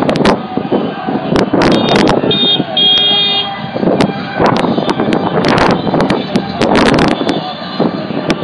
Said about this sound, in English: Followed by some older vehicles you may recognize or not.